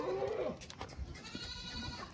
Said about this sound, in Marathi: हे बघा गाभण शेळी पूर्ण।